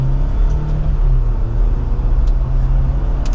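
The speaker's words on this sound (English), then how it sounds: "So testing out the little 4-cylinder motor." A 2024 Jeep Wrangler 2-Door Sport S with the 4-cylinder engine pulls away from a gravel parking lot, its steady engine drone and road rumble heard from inside the cabin.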